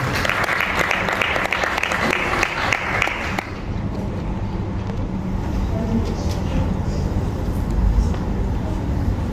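An audience applauds loudly at the Congolese Women Excellencia awards ceremony, with dense clapping that drops to a lower, steadier crowd noise partway through.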